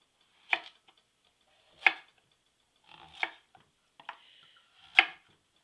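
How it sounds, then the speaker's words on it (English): A knife chops through butternut squash on a cutting board, cutting it into cubes: five sharp, separate cuts spaced about a second apart, close and distinct against a quiet background. "cut your squash into cubes using the flat side down"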